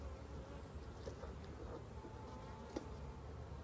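Honey bees buzz around an open hive box during a beekeeping inspection, a faint, steady hum with occasional closer passes over outdoor background noise.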